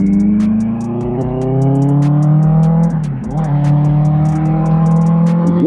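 A Benelli 600i inline-four superbike engine revs steadily with a smooth, rising howl. It dips briefly midway, then climbs again, loud and close, with no talking.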